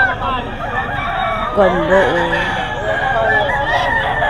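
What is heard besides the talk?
chickens and roosters crowing at a poultry market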